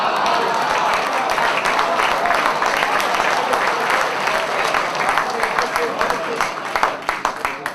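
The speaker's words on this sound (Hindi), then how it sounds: "जब आप बजा ही रहे हैं ताली तो किस्तों में क्यों बजा रहे हैं?" An audience at a Mumbai poetry recital applauds in a dense, sustained wave of clapping, loud and close, with a few isolated claps standing out as it tapers at the end.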